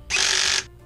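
Power tool driving a screw to cut new threads into an unthreaded chainsaw fuel tank on a Husqvarna 550xp, one short, loud, high whirring burst that stops abruptly.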